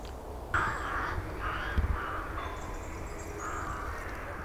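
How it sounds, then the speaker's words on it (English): Several crows caw overhead in repeated harsh calls as they fly in to roost, some calls overlapping, against a quiet outdoor background. "the air fills with the unmistakable sound of passing crows"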